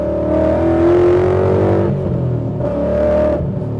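A Coyote-swapped 1997 Ford Mustang SVT Cobra pulls hard under heavy throttle, its V8 climbing steadily in pitch, easing briefly around the two-second mark, then surging again. The engine sounds loud and close throughout, with no talking over it.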